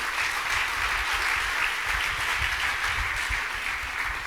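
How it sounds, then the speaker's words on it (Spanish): A church congregation claps steadily and loudly in a dense, continuous round of applause lasting several seconds. "Dale un fuerte aplauso de alabanza a Jesús."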